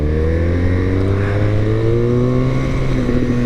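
A car engine that had not been started for a month and a half runs loud and close, its tone climbing slowly as it revs steadily, with no talking.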